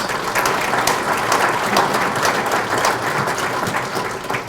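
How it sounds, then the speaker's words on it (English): Audience applause for a commissioner at a county workforce summit, a dense, steady wash of clapping that holds at full strength for about four and a half seconds without any voices. "So please go ahead and give Commissioner Mortensen a round of applause."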